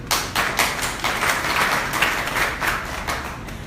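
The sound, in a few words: audience applause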